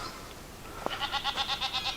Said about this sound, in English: Oh, there's goats down there. I heard them making noises.